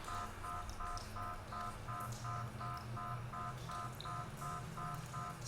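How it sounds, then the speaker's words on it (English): An alarm in a sewer-level video game sounds as a repeating electronic beep pattern, evenly pulsed tones cycling several times a second over a low steady hum, fairly quiet and alone. "It's like an alarm going off."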